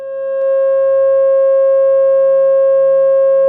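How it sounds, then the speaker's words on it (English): A pure 540 Hz sine tone for a pentagon fades in quickly, then holds steady and clean for a few seconds on its own. "What about the pentagon at 540?"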